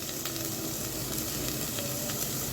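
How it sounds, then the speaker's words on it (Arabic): Onions, garlic and a Maggi cube sauté in hot oil, giving a dense, steady sizzle that stays close and even throughout, with faint stirring and no voices. "انا كده يا حبايبي شوحت البصل اهي في الزيت، وحطيت لها فص ثوم"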